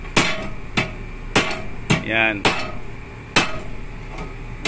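Hammer blows land at a steady pace, about eight sharp, ringing strikes close by, with a brief voice speaking between them.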